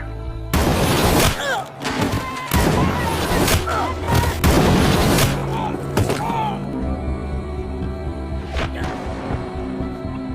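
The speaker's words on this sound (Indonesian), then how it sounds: "Namun tiba-tiba sebuah tembakan melesat" A rapid burst of loud gunshots and impacts from a film shootout, several sharp cracks close together, followed by scattered fainter shots over a lingering rumble.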